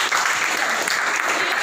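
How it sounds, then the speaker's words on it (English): Classroom of students applauding a classmate, a dense burst of many hands clapping together, loud and close, steady for the short stretch with a voice faintly underneath. "Okay, clap for him."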